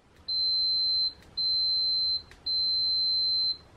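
Three steady high-pitched electronic beeps from a multimeter continuity test, each about a second long, separated by short gaps with faint clicks, over quiet background hiss.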